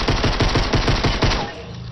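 Rapid automatic gunfire in the Fortnite battle royale video game, a steady burst of close, loud shots in quick even rhythm that stops near the end, with no talk over it.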